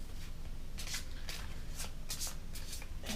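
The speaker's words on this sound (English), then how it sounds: "Legitimately shuffling here." Playing cards riffled repeatedly in quick bursts, close up, with a steady low background rumble and no talking.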